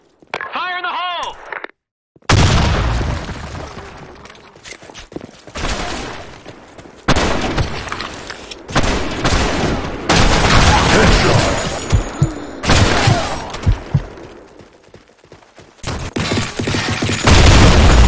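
Video game combat in a sandstorm map: a grenade blast and heavy bursts of automatic gunfire crack and boom in repeated loud volleys after a short burst of shouted voices, dense and close.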